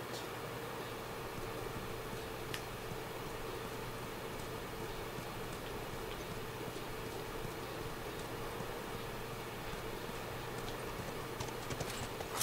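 Steady clip-clop of horse hooves in The Last of Us runs evenly for twelve seconds, faint and continuous under a hiss of background noise, with no talk.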